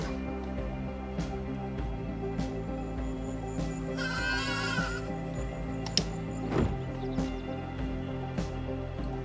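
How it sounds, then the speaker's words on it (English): A sheep bleats in the video game AER: Memories of Old, a short wavering call rising over a steady droning game soundtrack, with a couple of faint clicks around it. "The sheep."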